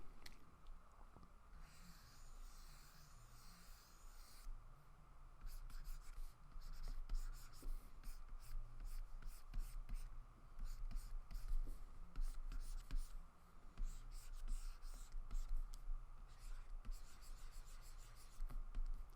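Pencil or pen scratching across paper while sketching an ear, close and quiet, with short strokes and longer stretches of continuous rubbing, some brief pauses between marks and no talking.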